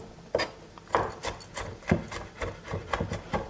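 Fresh garlic cut coarsely with a knife for a Tunisian mesfouf couscous, a run of about a dozen sharp, close knife chops with light rasping between them, fairly even in rhythm and heard alone.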